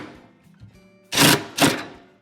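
A Phillips screwdriver drives a screw into a ready-to-assemble cabinet for a mixer lift shelf, producing two short, loud grinding bursts after a quiet stretch of faint clicks and handling, close by and with no talking.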